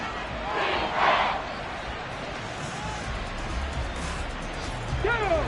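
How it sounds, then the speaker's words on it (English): Stadium crowd at a Commanders versus Lions football game swells into a broad roar, loudest near the start and again at the end, with voices and cheering blending into a continuous wash. "A big play here as the crowd noise rises."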